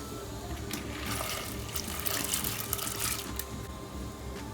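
Water poured over taro stems to wash them before cooking, heard as a soft, steady rush and splash of running water at low level that swells slightly midway, with no speech.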